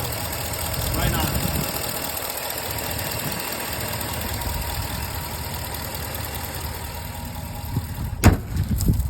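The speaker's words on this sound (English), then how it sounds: "That's how quiet that Hemi is with their 5W30 Redline motor oil." A 5.7 Hemi V8 running Redline 5W30 oil idles steadily from about six inches away, a low, even rumble with faint ticking, capped near the end by a sharp knock or tap.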